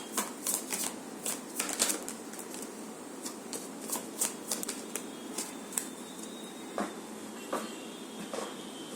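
A deck of tarot cards being shuffled by hand, a run of quick crisp riffling bursts and light card flicks close by, continuing through the whole stretch with short pauses, no talk.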